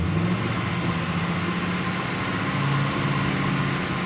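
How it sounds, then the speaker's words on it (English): A car engine revs through its exhaust, with the rear valves closed so one tailpipe on each side is open, during a roadside exhaust noise test against a 95 dBA limit; a steady, loud, continuous engine drone runs throughout with no talk. "And now we're going to rev."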